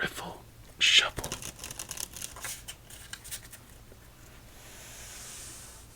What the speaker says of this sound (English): Let's do one more riffle shuffle.